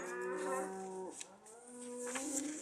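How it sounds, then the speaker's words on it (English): Cattle low in a long, quiet moo that rises and falls, then a second drawn-out moo follows. The sound is fairly distant, with no one talking. "Oh, cows are off again."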